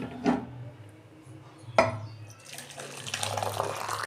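Cooked mung dal made with a fish head is poured from a pot, giving a soft liquid splash and gurgling flow that builds toward the end, after a couple of knocks of the pot, close by.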